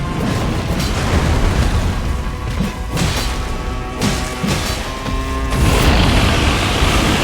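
Repeated explosions and heavy impacts in Elden Ring Seamless Co-op at NG+5 with the DLC, a dense, loud run of booms and crashes with several sharp bursts and a heavier blast near the end, all without speech.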